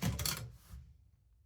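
A few quick metallic typewriter keystrokes in a brief cluster, fairly quiet and close, then a short ringing decay into near silence.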